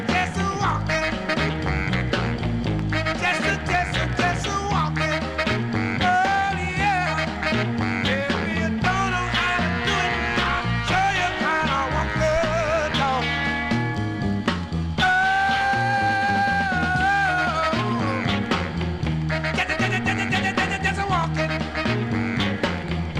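A 1963 Stax soul single spins on vinyl, with a steady full band groove of drums, bass, horns and vocals running loud and unbroken throughout.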